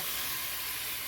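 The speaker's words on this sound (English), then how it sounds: "So just gonna saute that for a bit" Steady sizzle of food sautéing in warm oil in a pan, a constant hiss that runs unbroken and fairly loud throughout with no talking.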